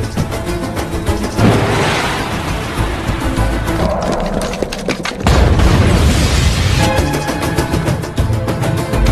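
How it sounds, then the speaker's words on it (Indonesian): A house blows up in a film scene, with a heavy explosion booming and roaring continuously, a second powerful blast surging midway, all loud and dense without talk. "rumah pun meledak"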